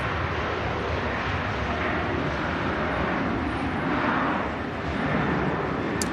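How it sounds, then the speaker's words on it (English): A Ryanair Boeing 737 rolls on runway 23 left at Manchester Airport, a steady, broad jet roar at moderate distance, constant throughout with a slight dip near the end, no talk over it. "Ryanair 737 rolling on 23 left."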